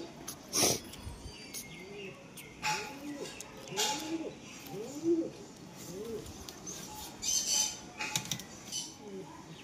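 A red pied pigeon, recovering from a cold that had left it near death, gives a series of low, repeated coos, fairly faint and close, broken by a few sharp clicks and knocks.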